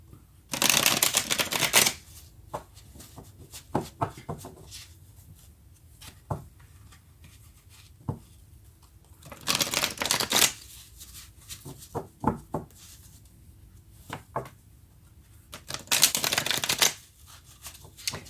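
Tarot cards are shuffled in three loud riffling bursts spaced several seconds apart, with quieter taps and card handling in between, close and without speech.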